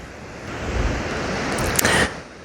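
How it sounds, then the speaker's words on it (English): Ocean waves washing onto a shore on a lovely day, a steady wash of surf with wind rumble, rising to a brief louder splash near the end, with no talk. "Just watching the waves."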